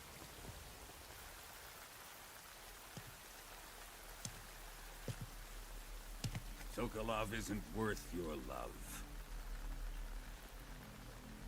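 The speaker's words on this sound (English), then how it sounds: "You can entertain me until the rain stops." Rain falls steadily throughout a scene in the video game Metal Gear Solid Delta: Snake Eater, a soft continuous patter under a few faint clicks, with a voice speaking over it in the second half.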